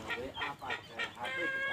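Free-range native village chickens on a small home-scale farm cluck in a steady series of short, repeated calls, fairly close and clear, with no one talking.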